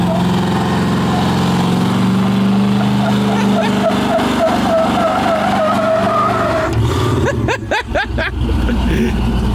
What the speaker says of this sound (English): You want to see if it do a burnout on pavement?